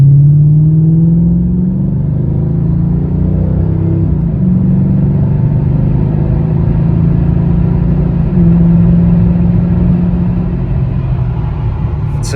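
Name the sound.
Mercedes C32/E55 AMG engine revving at half throttle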